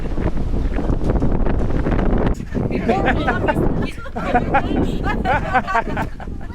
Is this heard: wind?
yes